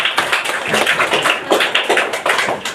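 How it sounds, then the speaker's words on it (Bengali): A group clapping together at a fire service training session, steady rapid claps of many hands for a few seconds, close and fairly loud with no talk. "হাততালি হবে।"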